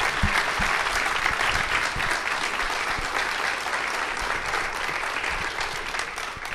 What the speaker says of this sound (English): I think we should have the parents stand up and give them a round of applause